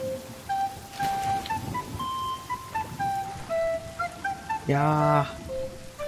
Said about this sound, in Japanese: はい、雨降ってきた